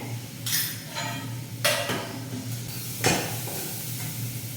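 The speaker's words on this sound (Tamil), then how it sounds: "இப்போ எண்ணெய் வந்து காஞ்சிருச்சு கடுகு போட்டுக்கிறேன்" Mustard seeds crackle in hot cooking oil as a Tamil onion vatha kuzhambu tempering begins, with a steady sizzle and several sharp bursts of popping over a low hum, fairly close.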